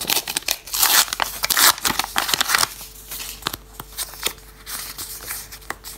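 Close crinkling and tearing of a small paper surprise packet, loud and crackly at first, then quieter rustles and light taps.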